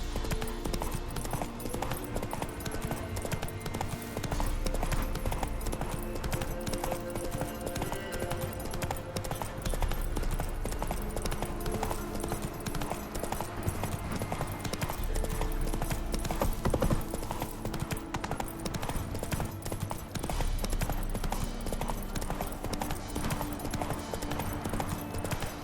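Horse hooves clip-clopping at a steady pace in The Witcher 3, a continuous rhythmic beat under dense game music and ambience, with no clear talk over it.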